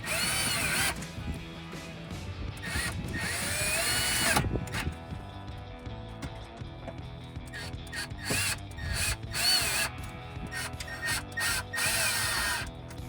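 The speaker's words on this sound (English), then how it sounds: "we're going to take the 4 self-tapping screws and install those right through the holes that are in the side of the lockbox here" A power drill drives four self-tapping screws through the side of a RedRock center console lockbox in a 2014-2018 Chevrolet Silverado 1500, loud close whirring bursts that rise and stop repeatedly, with short quiet gaps between screws.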